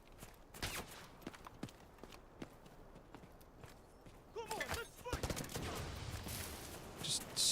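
Distant gunfire in the shooter game Delta Force comes as scattered sharp cracks and short bursts, faint and far off, with some movement noise between them.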